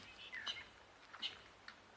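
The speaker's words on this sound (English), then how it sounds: "I can hear a bird alarm calling up here." Faint, sharp bird alarm chirps ring out in the African bush during a sunrise safari drive, coming in short scattered bursts against a quiet background, with a brief click at the very end.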